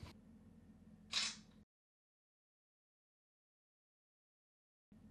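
A Samsung Galaxy A10 budget smartphone's camera shutter fires once as a selfie is taken, a brief bright click near the start, over low room hum that then cuts to silence.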